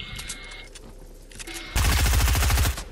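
SMG gunfire in a video game: a quiet stretch, then a loud, dense burst of rapid shots lasting about a second before it cuts off.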